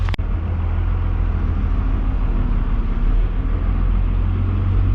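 12-valve Cummins diesel in a hotshot truck idling steadily after startup, a loud, constant low rumble with a brief click at the very start and no talking.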